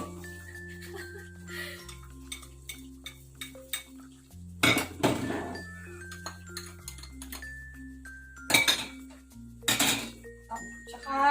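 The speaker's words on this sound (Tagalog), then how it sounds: "Bawang, sibuyas, sige, paghalu-haluin natin guys." A spoon stirring bay leaves, peppercorns, garlic and onion in a metal pot, with scattered clinks and scrapes against the pot and a few louder clattering bursts over quiet music.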